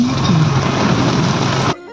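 Heavy rain and hail pour down in a dense, steady roar, close by, then cut off abruptly near the end.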